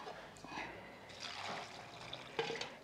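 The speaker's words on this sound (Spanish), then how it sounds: "Le voy a poner agua." Water poured into a pot of washed tomatoes and chiles, a quiet, close trickling and splashing that rises and falls in soft uneven surges, with faint background sounds and no talking.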